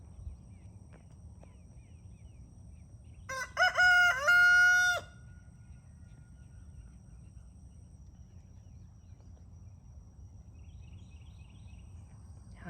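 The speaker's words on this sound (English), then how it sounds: "That's the rooster." One rooster crows a single loud, strained cock-a-doodle-doo lasting over a second, set in a quiet outdoor yard with a steady low background hum and faint insect chirping before and after.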